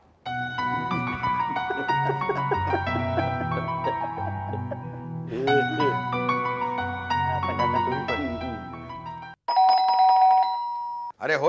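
An electronic doorbell in a family home plays a long, melodic chime tune loud and close. A brief pause follows, then a second sharp burst of ringing begins.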